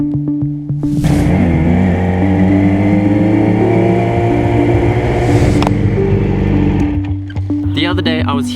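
A Yamaha R6 sport motorcycle rides past on the road, its engine rising to a loud, steady drone for several seconds before fading away as it moves off.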